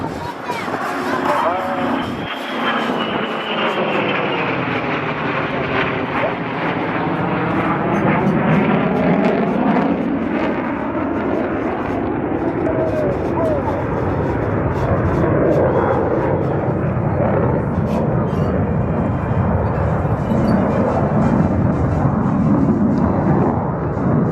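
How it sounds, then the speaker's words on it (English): Navy tailhook legacy flight military aircraft formation roars overhead at an airshow in a long sustained rumble, the pitch sweeping down and back up as the formation passes, loud and continuous. "This formation will set up for its final break of the tailhook legacy flight."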